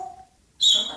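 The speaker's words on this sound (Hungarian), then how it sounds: "végre egy papagáj, amit tényleg beszél" A talking parrot gives a sharp, bright high-pitched squawk that bursts in loud and close after a faint tone and a near-silent pause.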